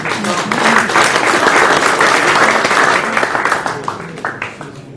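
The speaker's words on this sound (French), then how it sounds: "vous pouvez l'applaudir et le féliciter" Crowd at an amateur sports match applauding a new father, loud close clapping from many hands that rises quickly, holds strong, then thins out into scattered claps near the end.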